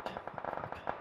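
A rapid burst of distant gunfire in PUBG, with around a dozen small, muffled pops closely spaced over one second, faint and without talk.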